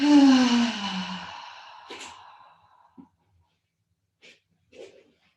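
A long, audible exhale through the mouth during guided full-moon yoga breathing, loud at first and slowly trailing off, followed by a few faint small sounds in near silence.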